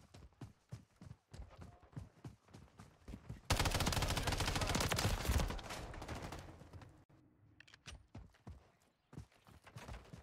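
In the video game Modern Warfare 3, a burst of sustained automatic gunfire roars for a few seconds amid a steady stream of rapid footsteps and clattering, which continue before and after the shooting.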